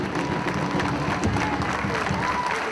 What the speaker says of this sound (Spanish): El aplauso enorme, vamos, que se escuche.